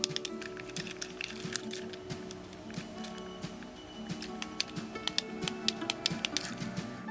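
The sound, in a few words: fidget cube roller ball clicking as it rolls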